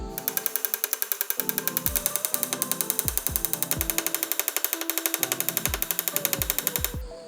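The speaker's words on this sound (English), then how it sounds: "go to town with the ball peen hammer and start making these heads domed" Rapid, steady metallic tapping as a ball peen hammer domes silver pins into a knife handle held on a vise used as an anvil; dozens of bright, close strikes in a fast even rhythm for several seconds, with no talking.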